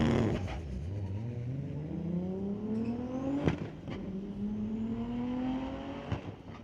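A 1995 Toyota Supra street car at a drag strip, its engine revving up through rising gears while accelerating away, moderately distant, with a steady roar fading toward the end.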